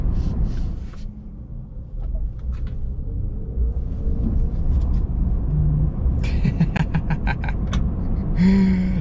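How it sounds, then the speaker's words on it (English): An electric truck driving on the road, with a steady low rumble of tire roar and wind noise throughout and some higher rattles and creaks toward the end, no engine note. "you still hear wind noise, you still hear the tires"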